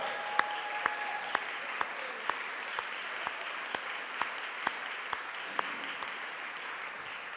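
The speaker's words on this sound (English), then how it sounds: "Let's give her a great round of applause" An audience in a cathedral applauds a newly elected Church of England bishop, a faint reverberant wash with a few sharp claps standing out at a steady, evenly spaced beat.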